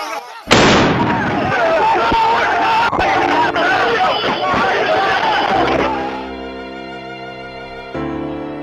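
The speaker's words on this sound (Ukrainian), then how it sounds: "Звучить постріл." A sudden loud gunshot crack bursts out, followed by a dense, noisy commotion that holds for several seconds before giving way to a steady sustained tone.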